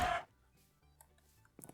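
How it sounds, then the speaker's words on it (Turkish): Minecraft chickens clucking: a brief loud burst at the start, then a few faint, scattered clucks close by. "O bayağı tavuk var."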